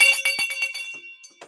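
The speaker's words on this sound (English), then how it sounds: "First purchase, I get to ring a bell." Hand bell rung several times in quick succession, bright ringing strikes that fade away, alone without talk.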